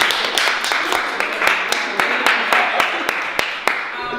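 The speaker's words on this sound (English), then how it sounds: "you deserve a round of applause" Applause for a debate club's performance: a small group claps in a steady burst of sharp, close claps throughout, with faint voices underneath.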